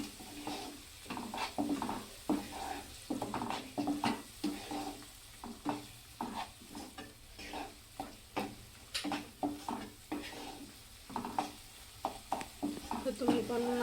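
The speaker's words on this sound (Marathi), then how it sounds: "मी थोडीशी हळद टाकायची आहे। तर छान असं परतून घ्यायचंय।" Jawla fish bhaji with turmeric being sautéed in a pan, with rhythmic spatula scrapes repeating every half second or so over a steady low sizzle, close and continuous.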